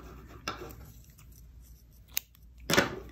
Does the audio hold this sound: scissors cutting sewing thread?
yes